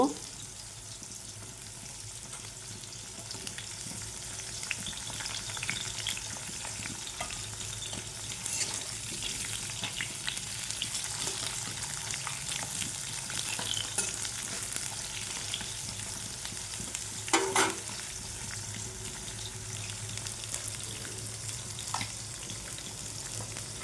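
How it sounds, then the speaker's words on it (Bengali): Unseasoned pumpkin pieces, skin on, fry in plain oil with a steady crackling sizzle throughout, plus occasional stirring clinks and one brief louder scrape near the end. "নুন হলুদ মাখাইনি এমনি তেলেতে ভেজে নেব"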